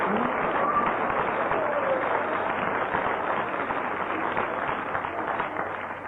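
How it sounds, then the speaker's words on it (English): A radio comedy panel show's studio audience breaks into sustained applause, a dense, even wash of clapping that stays loud and tapers only slightly at the end. "you win on the audience applause"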